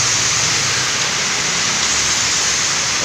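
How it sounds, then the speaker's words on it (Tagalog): Heavy rain pouring steadily beside a highway, a dense, loud, unbroken hiss with no breaks or voices across the whole stretch. "Lakas ng ulan."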